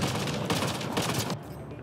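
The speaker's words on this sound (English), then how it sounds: "I'll get my turret out here." Rapid turret gunfire in Mass Effect: Andromeda rattles out in a loud, dense burst of shots that cuts off abruptly near the end.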